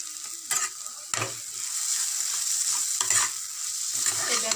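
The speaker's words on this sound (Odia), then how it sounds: "ଏବେ ଆମେ ଗୋଟେ ମିନିଟ୍ କଷି ନେବା" Potatoes with cumin powder and chili sauté in a pan for aloo dum, a close sizzle interrupted by several sharp spoon scrapes and stirring knocks, with nobody talking.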